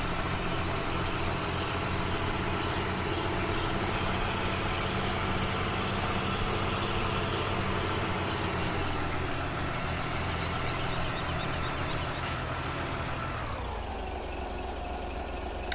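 Tractor and truck engines idle steadily in Farming Simulator 2017, a continuous low diesel rumble with a constant hum that drops off sharply near the end.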